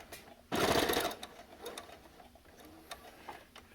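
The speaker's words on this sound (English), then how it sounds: "sew that all the way down" A sewing machine runs in one loud burst of about half a second, stitching down a pleat on a fabric face mask, then falls to quieter clicks and handling noise.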